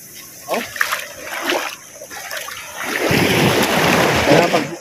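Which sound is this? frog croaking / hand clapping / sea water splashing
sea water splashing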